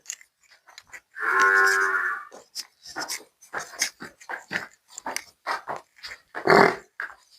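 A dairy buffalo for sale on a Punjabi farm lets out a long low moo and then a second louder one, with scattered short animal and handling noises in between, fairly close and otherwise quiet.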